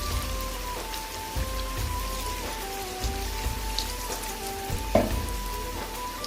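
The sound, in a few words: spinach pakoras frying in oil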